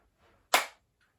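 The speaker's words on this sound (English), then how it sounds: "the right hand clapping and opening up your chest" A single sharp hand clap during a seated Parkinson's movement and mobility exercise, one crisp close burst in otherwise near silence with a faint murmur before it.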